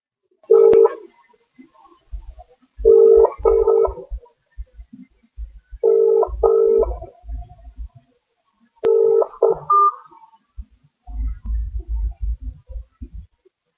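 Telephone keypad dialing tones come in four short bursts of paired beeps, followed by a low rumbling noise at the end, with quiet gaps between bursts.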